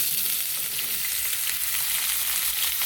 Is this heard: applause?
no